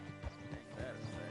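Horse in Red Dead Redemption 2 with soft hoof clops and a faint whinny in a short, quiet burst against a low game background hum.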